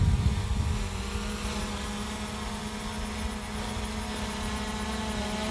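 DJI Mavic Air 2 drone flying a steady circle around its operator outdoors, its rotors a constant whirring drone that starts slightly louder and then holds an even level.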